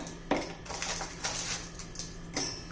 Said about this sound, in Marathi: त्याचे तुकडे करून करून आपण मिक्सरच्या भांड्यामध्ये घालून घेऊया